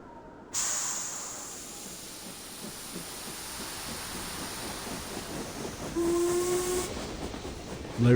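A train from the video game Limbus Company rolls steadily along with a continuous hissing, rushing rumble that swells slightly toward the end, with a brief whistle-like tone partway through and no voices.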